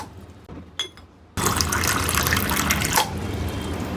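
Household tap water from a municipal piped supply gushes steadily into a container, starting abruptly after a brief quiet moment with faint clinks, then running loud and continuous, close by, with no talking.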